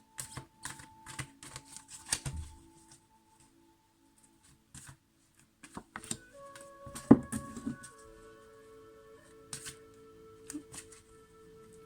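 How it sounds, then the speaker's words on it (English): Tarot cards being shuffled in several short bursts of crisp, papery riffling and clicks, with quiet pauses in between and no talking. "Let's get shuffling and see what you have coming up for October"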